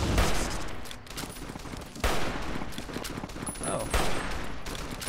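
Dense gunfire in Fallout New Vegas plays as continuous crackling volleys with stronger bursts at roughly one-second intervals. A man gives a brief exclamation over the shooting.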